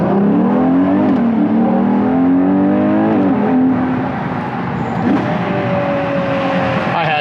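A Ferrari Purosangue accelerates hard, its engine note climbing loudly through several rising sweeps from close by, easing off near the end before building again.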